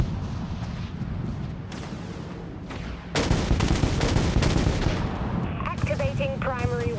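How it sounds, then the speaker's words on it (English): A torpedo fired from a warship in the Dreadnought space combat game, a loud abrupt roaring blast breaking over a steady engine rumble and sustaining with crackle, followed by electronic chirping tones. "Torpedo launched."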